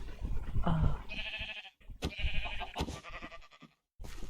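Sheep bleating in the video game Minecraft, a few wavering bleats repeating across the moment at moderate loudness, with short quiet gaps between calls.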